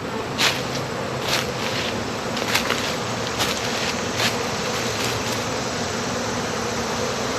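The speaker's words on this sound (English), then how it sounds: "And now we've got hornets, and they're being robbed out." Hornets robbing an opened beehive after a honey harvest, a loud, dense, constant buzzing of many insects close by, with no talking.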